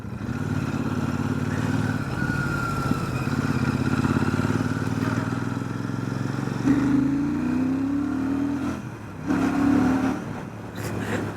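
Royal Enfield Super Meteor 650 twin engine pulling hard in second gear at around 80 km/h, a loud steady drone that rises in pitch with a brief dip and recovery near the end, heard up close with no talk.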